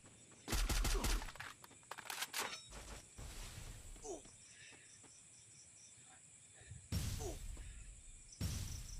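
Bursts of rapid gunfire crackle in a Free Fire gunfight, with several loud clusters of shots separated by quieter stretches, over a constant high insect-like game ambience and occasional talk.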